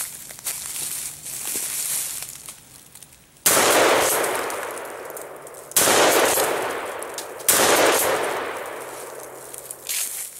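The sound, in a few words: Remington 870 shotgun firing slugs into a tree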